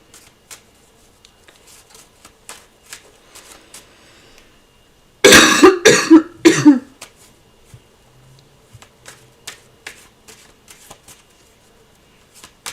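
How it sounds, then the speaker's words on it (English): Playing cards shuffled and drawn for a live card reading: one dense burst of riffling lasting about two seconds, with faint scattered taps and handling clicks before and after, and no talk. "Misa, are you getting any messages with these cards that you're pulling?"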